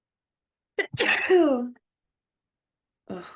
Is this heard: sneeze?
yes